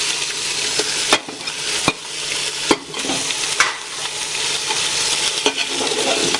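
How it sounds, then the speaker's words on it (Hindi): Beef pieces fry in hot oil with garlic-ginger paste, giving a continuous crackling sizzle broken by sharp scrapes and clacks of stirring at irregular intervals, close and fairly loud. "ये लहसुन अदरक का पेस्ट 1 मिनट तक हमने भून लिए। अब हम इसमें गोश्त डाल देते हैं।"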